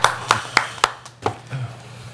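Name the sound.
audience clapping at board meeting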